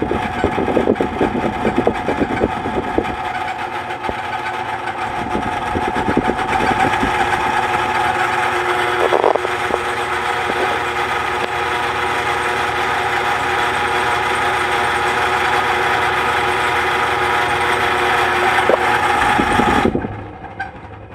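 An Emerson/Sears 52-inch friction drive ceiling fan motor runs slowly close by, giving a steady tonal hum with a buzzing rattle that clicks unevenly at first, then holds before cutting off near the end.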